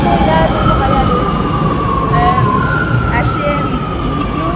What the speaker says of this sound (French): Et le métro est là, donc on va y aller.